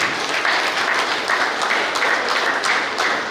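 Sustained audience applause at a Capuchin singing competition in Goa, a steady wash of many hands clapping at even loudness for several seconds, with no voices over it.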